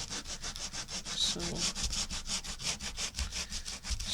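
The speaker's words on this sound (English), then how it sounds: "Sand that excess paper off, you know, maybe push it down and then sand." Sandpaper rubs excess Mod Podge paper off the edge of a Dollar Tree tray in fast, even back-and-forth strokes, a steady raspy scratching up close. A brief word is spoken partway through.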